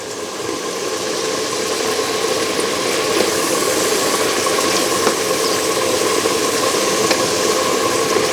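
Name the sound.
stirring and sizzling fried rice with thyme and curry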